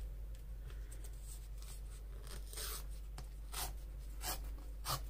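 Paper pages being torn out by hand while assembling junk journal signatures, a few quick ripping bursts over a steady low background hum.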